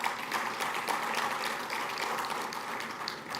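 An audience at the ARIN 53 conference gives a sustained round of applause for a sponsor, a dense, even wash of clapping heard from within the hall with no voices over it.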